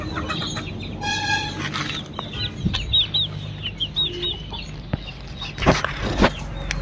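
Country-breed chickens clucking inside a poultry shed, a run of short, repeated clucks and chirps at moderate distance over a steady low hum, with no talking.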